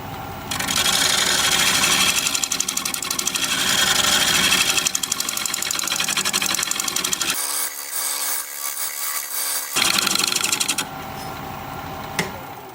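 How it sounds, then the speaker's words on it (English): A steady scraping hiss of a shear-scraping tool against a wooden bowl spinning on a lathe, loud and close, with the lathe's hum underneath; it briefly drops to a thinner whine before resuming. "I'm going to do a little bit of shear scraping and call it good"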